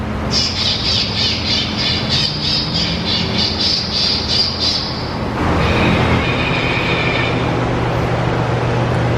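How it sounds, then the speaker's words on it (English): Loud, rapid raptor-like shrieks repeat in a fast series from a bird-deterrent speaker in The Colony, Texas, then give way to a different screeching call over steady outdoor traffic rumble. "I just heard a barrage of predatory birds here."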